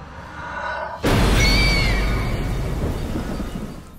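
Heavy rain pours down at night, and a sudden loud crack of thunder about a second in gives way to a dense, steady roar of rain.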